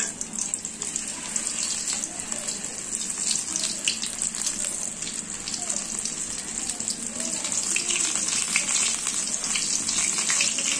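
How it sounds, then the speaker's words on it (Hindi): Batter-dipped eggplant pakoras frying in hot oil give a steady, hissing sizzle with small crackles throughout, moderately close and uninterrupted by talk. "अब हम लोग इसमें बैटर में बैगन देकर बैटर को अब तेल में इसको देंगे"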